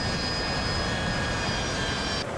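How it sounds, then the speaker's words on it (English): Steady, loud aircraft engine drone with a high whine, heard during hover taxiing, continuous and close with no talk, cutting slightly near the end. "With a flash bit of hover taxiing going on here."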